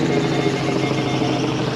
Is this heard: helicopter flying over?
yes